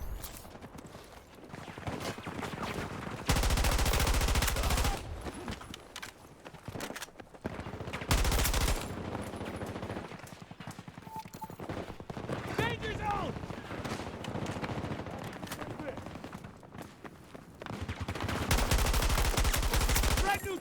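Gunfire in the shooter video game Battlefield 2042 comes in several loud bursts of rapid automatic fire separated by quieter stretches of game sounds, with a player talking over parts of it.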